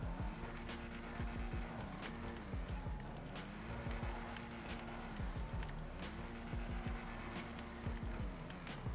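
A Lampadati Komoda car in GTA 5 Online drifts with its engine droning and revving in repeated rises and falls. Tire noise sits underneath at a moderate, steady level.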